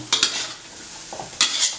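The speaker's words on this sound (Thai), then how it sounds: "ก็ผัดจนมันแห้งนะครับ ไข่จะเป็นก้อนออกมาอย่างนี้ครับ" A spatula scrapes twice and then twice again through bitter melon and egg stir-frying in a pan, with brisk metallic strokes over a faint sizzle.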